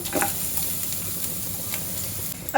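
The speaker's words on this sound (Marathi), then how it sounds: "आपलं तूप चांगलं गरम झालंय यामध्ये आता आपण घालूया हे खरवडलेलं खोबरं आता घालूया हा किसलेला गूळ" Grated coconut and jaggery fry in hot ghee, giving a steady close sizzle while a spoon stirs, with soft scraping taps near the start and a louder clink of the spoon at the end.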